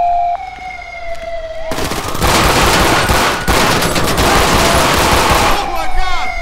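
A siren wails until a loud, sustained burst of rapid gunfire breaks in during a police traffic stop in GTA V with the LSPDFR mod, followed by more shots and the siren returning near the end.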